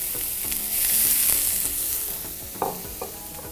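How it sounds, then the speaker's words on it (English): Onions and garlic sauté in a pan with a steady broadband sizzle, punctuated by a few sharp clinks and scrapes of a utensil stirring near the end, no voices. "And we'll saute that for about 3 minutes."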